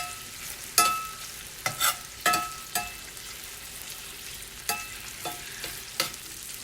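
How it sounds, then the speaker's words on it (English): Prosciutto frying crisp in a pan gives a soft, steady sizzle broken by several sharp pops and spatters scattered across the stretch, with no voices. "my prosciutto is cooking up halfway crispy"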